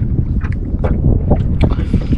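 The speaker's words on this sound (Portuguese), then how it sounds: "tá ventando bastante" Strong gusty wind buffets the microphone in uneven rushes and thumps, loud and close, with no voices.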